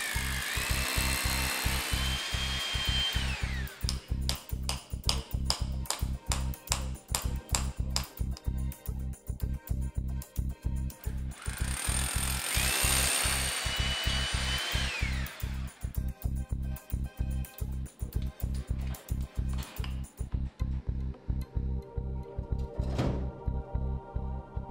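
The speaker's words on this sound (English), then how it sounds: "Drill the holes and countersink the accompanying dowels." A power drill runs steadily in rapid pulses, whining higher as it bites into a wall while drilling holes, sustained for a long stretch with no voices.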